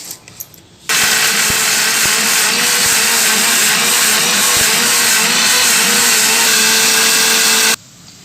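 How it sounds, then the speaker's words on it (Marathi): A mixer grinder grinding chopped spice masala roars loudly for about seven seconds with a wavering motor whine and rattling blades, then cuts off abruptly. "तर चिरून मिक्सरमध्ये घेतल्या तर बारीक करून घ्यायचे"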